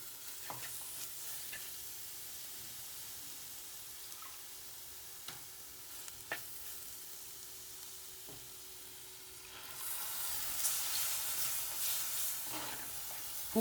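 Ground coconut roasts in a pan for onion theeyal, with a soft, faint sizzle and occasional scraping stirs and ticks of a spatula, the frying growing louder and busier toward the end.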